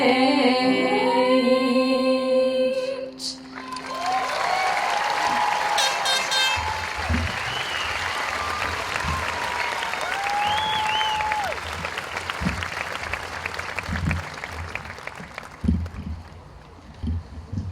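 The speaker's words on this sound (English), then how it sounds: "Give them another round of applause." Graduation audience applauding after a song at a high school commencement, with a sung note and cheers fading at the start into sustained clapping from a large crowd, punctuated by whoops.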